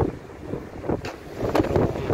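Strong, cold wind buffets the microphone in gusty bursts on a wet, windy day, with rushing swells and sharp thumps rising and falling unevenly, alone without talk.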